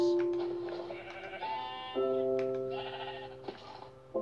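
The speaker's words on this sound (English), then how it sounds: "Is that a sheep?" Sheep bleat in Minecraft on Xbox 360, a few wavering, nasal cries in quick succession that overlap slightly, close and clear with no talking.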